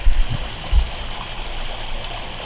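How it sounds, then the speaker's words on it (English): Water pours steadily from a hose into a large backyard pool, a constant close rushing and splashing with a couple of low gurgles near the start. "About time to turn that water off."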